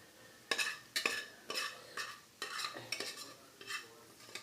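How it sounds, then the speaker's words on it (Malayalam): Boiled beef tripe and liver get stirred into a spiced masala in a pan, heard as about seven distinct, soft scraping strokes with faint sizzling between them, quiet and close. "ഇളക്കി അതിലേക്ക് ബോട്ടി, വേവിച്ച് വെച്ച ബോട്ടി ആ മസാലയോട് ചേർക്കുക."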